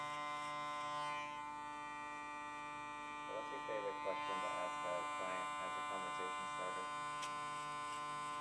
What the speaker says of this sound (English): hitting it with the electric shaver to bald out the sides.